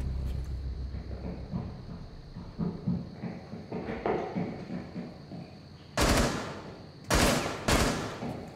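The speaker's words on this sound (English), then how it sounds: "Someone's shooting up the ladder" Gunfire in a Rainbow Six Siege match, scattered muffled shots early on, then three loud close bursts of automatic fire with no talk.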